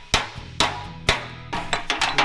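A hammer strikes sheet metal held flat on a dolly while an edge is worked around, giving a series of sharp, ringing metallic blows at an uneven pace, close up.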